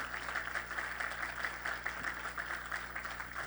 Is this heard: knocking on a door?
no